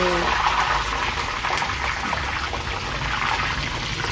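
Curry leaves are rinsed under a running tap, with a steady close stream of splashing water heard throughout. Faint speech sits beneath it.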